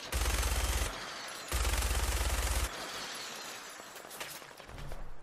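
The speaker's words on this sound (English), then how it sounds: "Where am I getting shot at from?" Enemy gunfire in Fallout 4 rattles out in two loud sustained bursts of rapid shots, separated by a short gap and followed by quieter, scattered crackling and debris noise.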